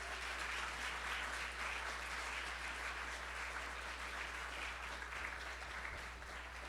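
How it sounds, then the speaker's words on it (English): Crowd applause for the UTRGV pep band at a press conference: a steady, fairly faint wash of many hands clapping that holds evenly throughout, with a low electrical hum underneath. "how about a round of applause for the pet band today?"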